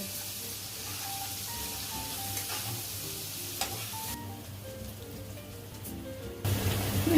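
Ground spices, coriander powder, turmeric and salt sauté in a pan for koi fish bhuna curry, a soft, continuous frying sizzle broken by occasional stirring clicks, ending with a louder scrape near the close.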